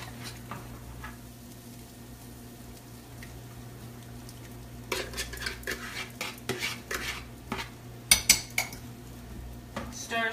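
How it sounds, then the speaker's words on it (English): A spoon clinks and scrapes around a bowl while stirring an egg mixture into a banana bread batter in a home kitchen, starting soft and growing into sharper, closer taps, with a steady hum underneath. "Stir, stir, stir to get everything incorporated."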